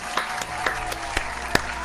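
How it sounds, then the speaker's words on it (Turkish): Sparse scattered claps, a few people applauding loosely rather than a full ovation, over a faint background murmur. "Alkış be, alkış be."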